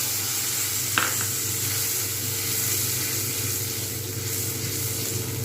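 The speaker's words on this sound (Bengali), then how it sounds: "এবার আমি যে মশলাটা তৈরি করে রেখেছিলাম দিয়ে দেবো ঢেলে আস্তে করে।" Prepared spice masala poured into a hot pan for a fenugreek-leaf paneer dish, with cumin already tempered and no onion, giving a steady, moderately loud sizzle and hiss with one brief clink near the start and no talking.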